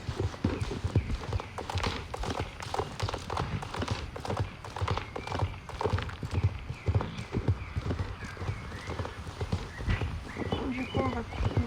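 Horse hooves clip-clop steadily in Star Stable Online, an online horse-riding game, as a mount arrives at its stable, with an occasional whinny and a voice talking over the rhythmic hoofbeats.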